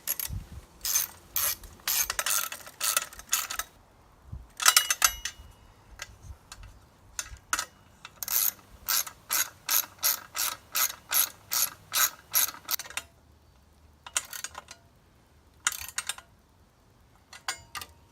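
A ratchet socket wrench turns bolts holding a radiator guard on a Yamaha WR250R motorcycle, in bursts of rapid close ratcheting clicks that start and stop repeatedly with short pauses between strokes.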